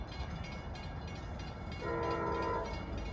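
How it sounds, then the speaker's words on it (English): Long Island Rail Road train approaching westbound on the Montauk Branch east of Babylon, a steady low rumble under a loud horn blast sounding near the end. "approaching westbound is train"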